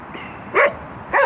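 A pair of short, bright barks from happy dogs, close by and loud, the first around the middle and the second near the end, with a quiet gap between and no talking.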